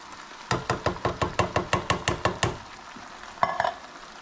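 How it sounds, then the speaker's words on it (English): A spoon stirs tomato sauce from a 15-ounce can in a hot pan, giving about a dozen quick, even scraping strokes in a steady rhythm, close and fairly loud, then a pause and two more strokes. "Give it a stir real quick. Get things mixing around there."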